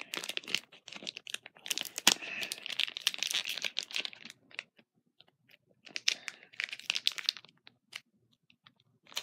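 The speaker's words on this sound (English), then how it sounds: "Open this pack." A sealed Pokémon Generations card pack is tugged and torn at, with bursts of crinkling foil and tearing in close, irregular clusters separated by brief pauses.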